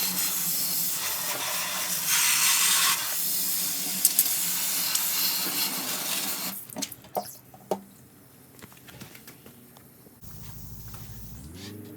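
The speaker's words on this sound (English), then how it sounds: "we'll get that hose sprayed in there and see if we can get some rust out of there" Garden hose spraying water into the gas tank of a 1978 Yamaha DT400 motorcycle to flush out rust, a loud steady hiss for several seconds, then scattered splashes and knocks as the spray stops.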